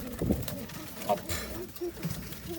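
Pigeons on a balcony give a few soft, low coos amid faint background noise and handling sounds, close and quiet.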